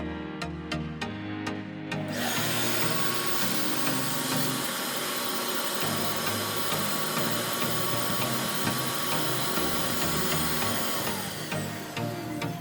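A vacuum test machine runs on a Copper 95 face mask, kicking in after a few faint clicks with a loud, steady whooshing hiss and motor whir that holds evenly for about ten seconds.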